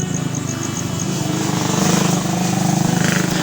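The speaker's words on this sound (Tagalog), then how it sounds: "May motor." A motorcycle engine droning steadily nearby, its rumble swelling slightly as it passes, heard from a home kitchen where mussels are being cooked.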